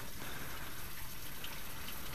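Water gushing steadily through a car's heater core and radiator during a flush, a continuous rushing, splashing stream at an even level.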